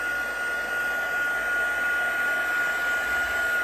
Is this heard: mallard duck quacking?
no